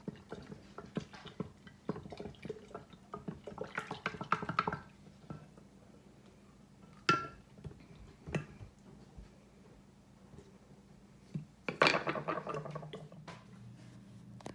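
Glitter glue mixture stirred in a jar for a calming jar, heard as scattered light clicks, taps and wet squishes in bursts, close and fairly quiet, with pauses of near silence between them.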